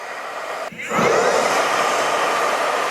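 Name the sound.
hair dryer blow-drying hair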